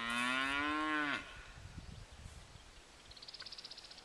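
Cattle on an open eastern Oregon ranch give a loud, drawn-out moo lasting about a second, then quieter rustling and faint outdoor ambience follow, with a brief high bird-like call near the end.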